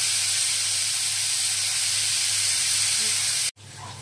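Potato bhujia cooks covered in a pan over a medium flame, giving a steady soft hiss and low sizzle with a faint hum beneath, cut by a brief dropout near the end.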